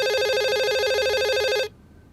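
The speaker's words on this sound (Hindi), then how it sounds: "अब इस फोन को कोई उठा लेगा या फिर ये भी आके मैं ही उठाऊं?" A telephone rings with a steady electronic trilled tone, loud and close, in a home setting, then cuts off abruptly before the end, leaving near silence.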